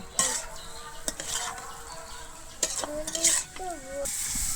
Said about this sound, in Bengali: আমি এচড়ার আলুটা মশলার সঙ্গে এক মিনিটের মতো এখানে কষিয়ে নেব